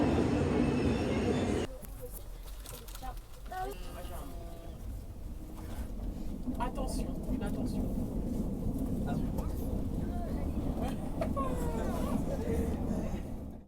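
Train ride back to Rennes in France: a steady rumble of the moving carriage with faint rattles throughout, under a spoken voice.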